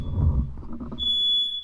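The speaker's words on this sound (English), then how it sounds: "I'm pretty sure my smoke detector just went off." A smoke detector goes off with a loud, piercing, steady electronic tone that starts partway through and continues, following a stretch of indistinct talking.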